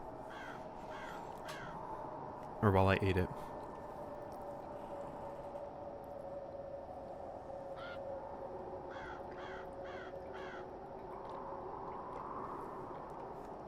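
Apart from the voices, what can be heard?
crows cawing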